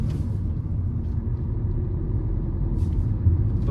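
Maruti Suzuki Brezza braking hard with ABS engaged, a steady low road rumble and tyre drone from inside the cabin, continuous and fairly loud with no voices.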